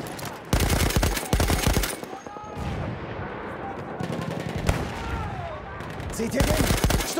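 Rapid, loud bursts from an MG08/18 machine gun in a Fort de Vaux video game battle rattle close by, pausing briefly before resuming amid distant gunfire and battlefield noise.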